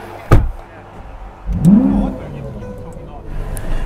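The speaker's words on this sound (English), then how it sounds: "Now you've launched the car" A Lamborghini Aventador launches in a drag race, its engine bursting into a loud rising roar after a short sharp crack, then settling into a sustained drone, with voices talking over it.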